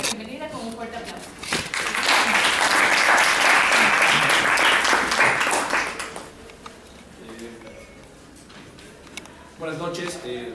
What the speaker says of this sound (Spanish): le damos la bienvenida con un fuerte aplauso